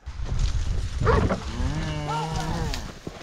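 A cow lets out a long, drawn-out moo nearby during cattle herding across a flooded river, with some rustling and background noise before it.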